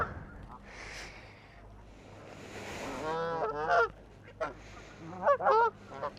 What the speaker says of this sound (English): I know these birdies.